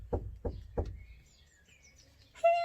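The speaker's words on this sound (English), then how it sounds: "He knocked on the door." Three evenly spaced, firm knocks on a wooden cottage door, close and distinct, followed by a quiet pause and a brief high tonal sound at the end.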